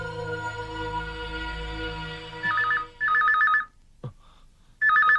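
A telephone bell rings unanswered in a house, three trilling bursts in steady repetition after a low sustained tone fades, with a brief thud between rings and no voices.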